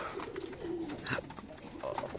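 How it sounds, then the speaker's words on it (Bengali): Pigeons cooing on a village pigeon farm: several low, throaty coos repeat close by, with soft wing flutters and faint bird chirps in a quiet rural setting, and no talking. "কবুতর"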